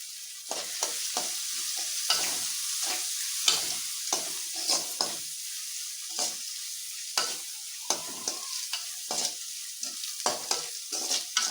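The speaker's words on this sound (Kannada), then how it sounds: "ಈಗ ಈರುಳ್ಳಿ ಎಲ್ಲ ಚೆನ್ನಾಗಿ ಫ್ರೈ ಆಗಲಿ ಇದು ಫ್ರೈ ಮಾಡ್ಕೊಳ್ಳಿ ಚೆನ್ನಾಗೆ" Onions frying with a little turmeric in a pan, a constant sizzle broken by many repeated scraping strokes of a spatula in an irregular rhythm, close and clear, with no talking.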